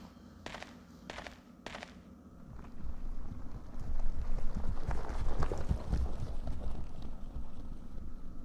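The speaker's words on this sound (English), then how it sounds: "Sounds like a horse running around" Hooves thud in an irregular galloping rhythm over rustling wind in the video game Silent Hill 2, starting faint and growing louder midway, like a horse running nearby.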